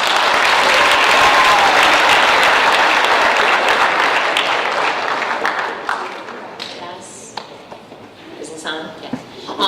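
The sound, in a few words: audience applause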